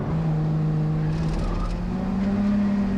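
A 1980s BMW 3 Series accelerates uphill, its engine droning steadily and loud from inside the car, pitch rising slowly as it pulls.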